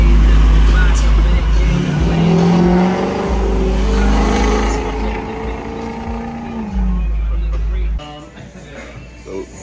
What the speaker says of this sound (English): It's a truck. It's a diesel engine, but I don't know what size it is.